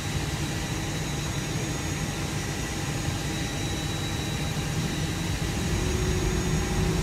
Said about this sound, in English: Start engine number two.